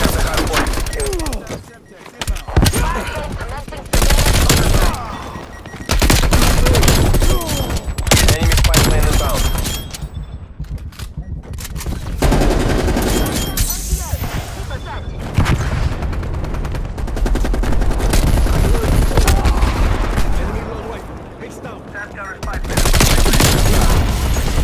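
Heavy sustained gunfire fills the scene in Call of Duty Black Ops Cold War, loud bursts of automatic fire and booming shots with brief gaps, while voices shout over it.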